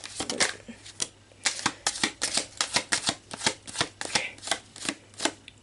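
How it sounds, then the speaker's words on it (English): Playing cards shuffled for a tarot-style reading, a rapid run of crisp riffling bursts and snaps repeating steadily and close up, with no voice over them. "let me get all your cards out and we'll see."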